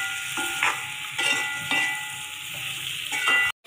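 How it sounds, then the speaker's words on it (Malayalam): Spices and green chilies sizzle in hot oil while being stirred for an egg potato stew, a close steady frying hiss broken by several scraping stirs of a spoon against the pan. "അപ്പോൾ ഇതൊന്ന് പച്ചമുളം മാറുന്ന വരെ നമുക്കൊന്ന് വഴറ്റാം."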